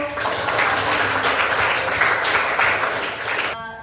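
An audience in a hall breaks into sustained applause, a dense wash of many hands clapping at moderate distance before it cuts off abruptly near the end.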